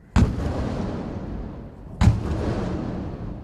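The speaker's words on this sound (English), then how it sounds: "which was followed by a 21-gun salute" Ceremonial artillery guns firing a 21-gun salute at Sri Lanka's 71st National Day celebration, two distant booming shots about two seconds apart, each with a long rolling echo fading across an open outdoor space.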